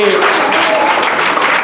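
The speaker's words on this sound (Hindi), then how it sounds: "एक बार आप लोग जोरदार ताली बजाइए" Loud, dense applause from a school audience at an awards ceremony honouring intermediate students, a steady wash of many hands clapping together with voices mixed in.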